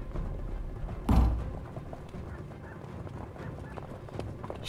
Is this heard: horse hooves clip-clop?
yes